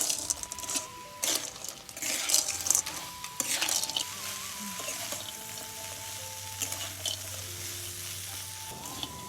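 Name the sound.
stirring pasta with boiled vegetables in a pan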